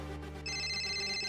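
A telephone ringtone rings steadily as a call goes out to mom, the ringing tone starting partway in and holding on, clear and close, with no talk.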